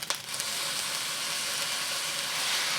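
Soy sauce hits a hot wok of garlic shrimp fried rice with frozen peas, giving a loud, steady sizzling hiss close by that holds for a few seconds.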